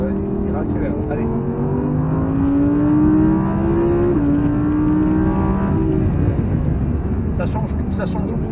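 Audi R8 V10 accelerating hard, a loud engine note climbing in pitch through the revs, then dipping and settling, heard from inside the car with people talking over it.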